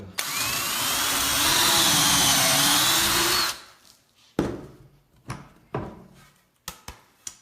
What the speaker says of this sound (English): You're going to take your Craig drill bit